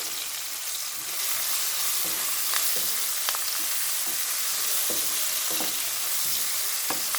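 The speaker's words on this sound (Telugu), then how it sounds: "ఇప్పుడు మనము కరివేపాకు వేసేసానండి" Curry leaves crackle and sizzle in a pan with softened tomatoes, a loud continuous fry broken by several sharp spoon scrapes against the pan.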